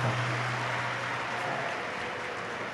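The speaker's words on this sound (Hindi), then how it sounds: "एक बार जोरदार ताली बजाकर साथ दिखा।" An audience at a Shiv Mahapuran religious discourse claps loudly, a dense, sustained wave of applause that fills the space evenly from start to finish.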